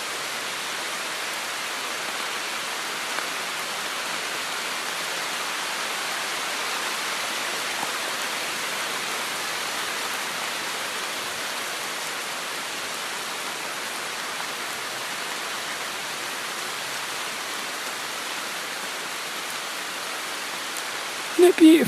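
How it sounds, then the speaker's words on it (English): Steady, even rain hisses continuously for over twenty seconds, a dense unbroken wash of falling drops with no clear individual hits, moderately loud and alone apart from a brief knock at the very end. "Shall we just listen to this rain for a bit?"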